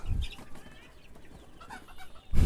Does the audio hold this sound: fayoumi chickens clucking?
yes